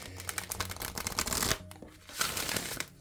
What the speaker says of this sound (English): I was able to shuffle and bridge that, which is really nice.